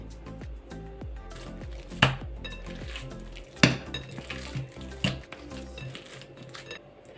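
Minced meat for meatloaf, mixed and kneaded by hand in a bowl, makes soft, repeated squelching slaps in an uneven rhythm, with three sharper thuds where the meat is beaten down.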